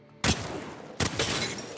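Two loud bursts of video game gunfire from a weak weapon striking a target's body, the first at the quarter-second mark and a second after a short gap, each sustained and crackling with no talk.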